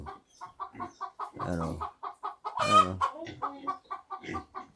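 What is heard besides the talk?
chickens clucking on a farm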